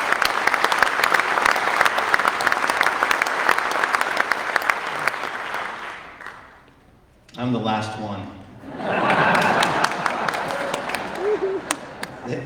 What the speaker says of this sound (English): They applauded for the last one.